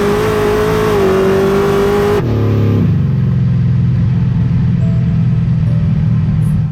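A 1973 Ford Maverick drag car holds a loud, steady engine drone, then the pitch drops sharply as it shifts or launches and settles into a lower sustained roar, with no talking.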